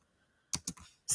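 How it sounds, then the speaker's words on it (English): A date typed on a computer keyboard: after a silent pause, four quick, close key clicks in a short burst. "So we're going to go ahead and type today's date"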